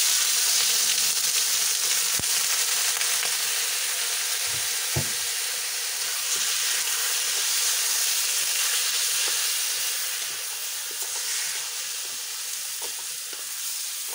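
Chicken pieces dropped into a hot pot for Filipino chicken curry with coconut hiss and sizzle steadily throughout, close and continuous, with a few small clicks and knocks of stirring.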